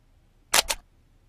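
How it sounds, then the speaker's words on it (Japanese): An Olympus OM-D camera fires its shutter once, a crisp double-click of shutter and mirror-like mechanism heard close and clear against near silence. "シャッターを切る。"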